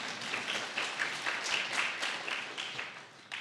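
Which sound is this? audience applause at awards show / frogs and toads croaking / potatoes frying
audience applause at awards show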